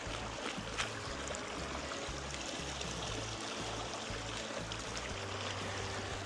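Natural mountain stream water flowing steadily in a broadband rush while muddy shoes are rinsed, with faint low rumbles and small splashes throughout.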